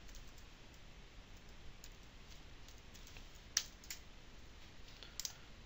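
Typing code on a computer keyboard, faint scattered key clicks with a couple of sharper taps, quiet and close with no talking.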